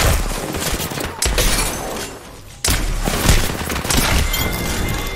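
Rapid, loud gunfire from the video game Apex Legends, dense overlapping bursts that drop off briefly and then resume at full intensity.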